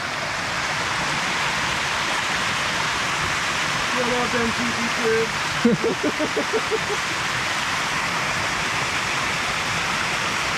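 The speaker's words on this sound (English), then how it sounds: "Checking out the cool waterfall." Steady, broadband rushing of a waterfall on Mount Soyosan fills the whole clip, with a few short spoken words and a brief tonal bit partway through.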